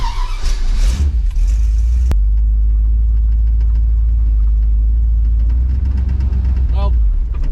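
A car powered by a 400ci small-block Chevy with a welded spool in the rear end drives along, its engine droning loud and steady throughout, with people talking over it.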